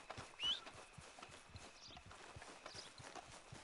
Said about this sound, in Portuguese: Eu chamo o cavalo. O cavalo respawna aqui de uma forma mágica, misteriosa.